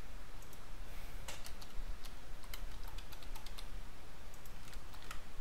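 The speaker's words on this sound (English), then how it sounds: "I'm going to type my password." Computer keyboard typing while a password is entered during a SCOM 2019 admin setup, a quick burst of light clicky keystrokes over a steady background hiss, fairly close and moderately quiet.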